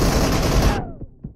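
A dense, loud burst of automatic gunfire from a mobile shooter game's team deathmatch, cutting off abruptly and followed by a couple of faint thuds.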